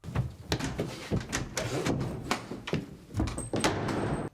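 A door is slammed shut in a busy domestic scene from a Turkish TV comedy: several sharp thuds and knocks follow one another over steady background noise, with no speech.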